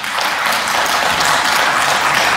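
Applause in a parliament hall, a dense, steady wash of many hands clapping at full loudness throughout, close and continuous.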